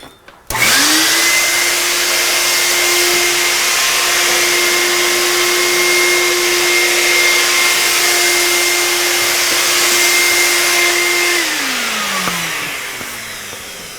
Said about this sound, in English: I'm going to set up our little brass vacuum cleaner here.